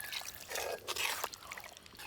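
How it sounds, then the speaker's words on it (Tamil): Water poured into a cooking pot of mutton with yogurt, chili powder and biryani masala for a village-style mutton biryani, a steady splashing pour with some trickling, close and fairly soft, with no talk. "மட்டன் வேகறதுக்காக தண்ணி."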